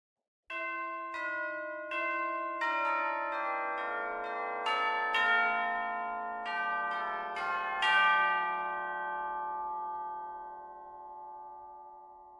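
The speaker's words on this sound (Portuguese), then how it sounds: "Os sinos tubulares." Tubular bells from the Spitfire Symphony Orchestra Discovery sample library play a slow sequence of about a dozen clear struck tones, each ringing out and overlapping with long, shimmering decays, alone and close.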